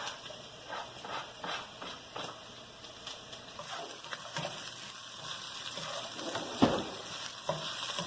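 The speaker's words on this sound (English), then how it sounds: "as we're sauteing, we're going to start with the onion." Onion sautéing in a pan for a home-cooked dinner, a soft, steady sizzle with occasional stirring scrapes and light clatter, fairly quiet and close.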